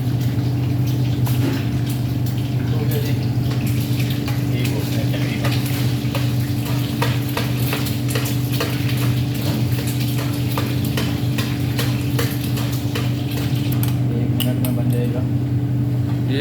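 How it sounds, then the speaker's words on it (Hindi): An egg omelette with ready-made masala cooks in a pan, a steady loud sizzle with rhythmic spatula taps and scrapes over a constant low mechanical hum, with busy background noise throughout. "ये आमलेट मैं बनवा रहा हूँ उस्ताद जी से"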